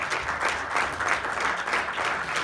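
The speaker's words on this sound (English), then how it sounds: "please give them a big round of applause" An audience at a business valuation seminar gives a round of applause, with brisk, even clapping that rises and falls slightly and continues alone without speech.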